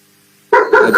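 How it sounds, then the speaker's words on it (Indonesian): A dog barks nearby, a loud burst of two or three rough barks that cuts in abruptly after a half second of quiet room hum. "Itu suara guguknya di mute dulu, Bang EYY."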